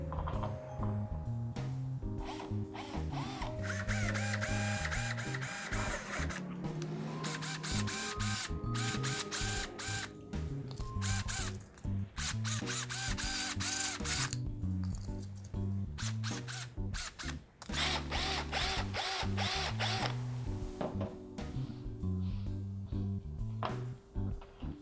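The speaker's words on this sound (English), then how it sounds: "Let's go ahead and just drill that hole." A power drill bores a 1-inch hole with a 1-inch bit during an HID xenon headlight install on a 2013 Chrysler 200. The drill whirs steadily at moderate level for about 25 seconds, with brief stops and restarts.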